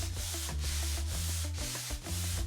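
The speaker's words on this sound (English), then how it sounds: "I began the most messy part of this project, sanding" Hand sanding hardwood from about 80 up to 1000 grit, with rhythmic back-and-forth scratchy strokes about twice a second, close up and loud, over background music.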